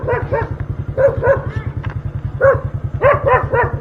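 A dog barks in short clusters of two or three yaps, fairly close, over a steady low rumbling engine hum.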